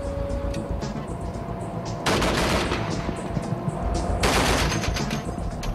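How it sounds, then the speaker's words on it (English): Sustained bursts of heavy automatic fire from an M2 .50 caliber machine gun mounted on a Stryker vehicle, dense and loud, with two sharper, louder bursts breaking through the continuous roar. "One of the most dependable and widely used weapon systems is the M2 50 caliber machine gun."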